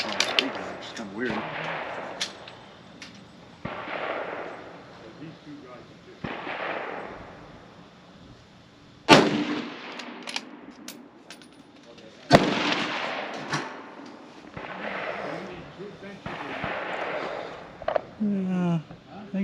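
Rifle shots from a Bergara B14 bolt-action in a KRG X-ray chassis, two sharp loud reports spaced a few seconds apart, with someone talking throughout between them.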